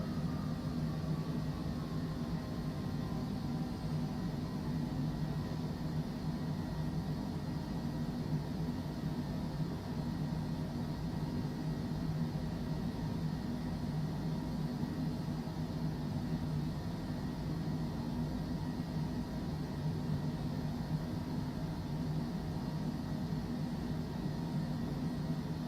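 Cessna Longitude business jet engines in Microsoft Flight Simulator 2024, a constant even turbine drone and hiss at moderate level throughout, with no voices.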